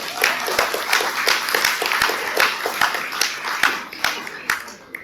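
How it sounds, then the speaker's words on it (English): Audience applause for participants at a mayoral and treasurer candidates forum held by a Chamber of Commerce, a dense, steady patter of many hands with sharp individual claps standing out, moderately loud and tapering slightly near the end. "can we give them a round of applause for their participation in today's event?"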